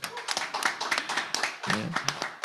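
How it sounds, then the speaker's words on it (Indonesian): An audience at an Indonesian talk-show event claps in a sparse, uneven burst of handclaps that is more scattered clapping than full applause. Voices can be heard faintly underneath. "Kita kasih aplaus dong"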